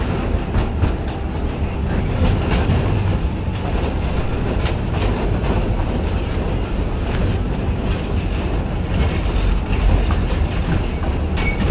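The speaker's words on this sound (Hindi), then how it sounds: "या फिर टॉय ट्रेन हो।" Toy train ride at the National Rail Museum in Delhi, a steady loud rumble of wheels on track with rhythmic clickety-clack, heard from on board, continuous and without talk.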